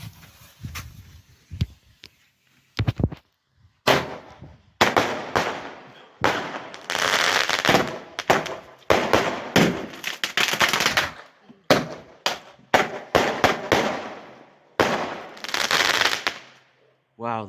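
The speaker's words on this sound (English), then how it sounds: "This is the main firework." A Zeus Pulsar firework bangs and crackles in loud rapid volleys, bursts of sharp reports separated by brief gaps, with a voice speaking in places.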